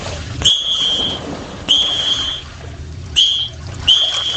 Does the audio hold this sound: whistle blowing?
yes